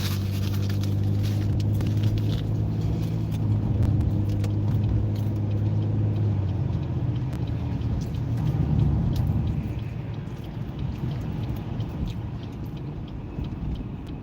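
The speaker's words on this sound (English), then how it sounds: "We have to let the car warm up." A car engine idles low and steady while warming up in very cold weather, a continuous rumble with faint jingling and rattling on top and no talk.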